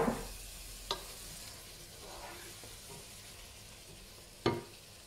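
Rinsed red kidney beans tipped into a pan of reduced cooking meat, with a soft sizzle under a couple of sharp clatters as the spoon stirs them in, fairly quiet and close.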